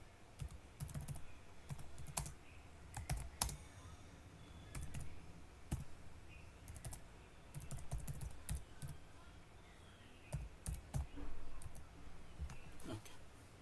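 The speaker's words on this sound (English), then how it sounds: "Let's type." Typing on a computer keyboard at a desk while setting up a coding project, with irregular bursts of quick, close key clicks separated by brief pauses, over a faint room hum.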